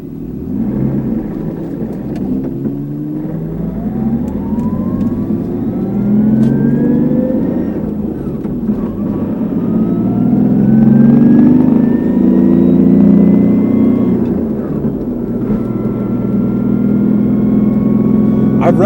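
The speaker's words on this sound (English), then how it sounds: "let me just take a quick run around and show you that it goes through the gears" Car fitted with a swapped R154 manual gearbox from an IS300 accelerating through the gears, engine pitch rising and dropping at each shift over a steady drone, with cabin noise throughout.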